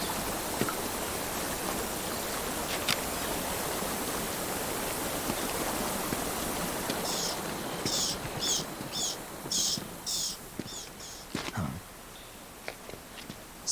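A waterfall in the video game Metal Gear Solid 3: Snake Eater gives a loud, continuous rushing roar, joined midway by a run of footsteps and small clicks as the roar thins toward the end.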